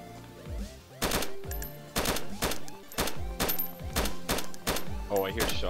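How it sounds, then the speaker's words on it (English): Close-range gunshots in the survival game DayZ crack out loud and sharp, roughly one per second in a steady series of about six, with a voice talking between some of the shots. "I hear shots very close"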